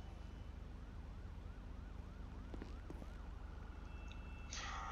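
A wailing ambulance siren in GTA V rises and falls steadily over a constant low engine drone, with a brief electronic chirp near the end.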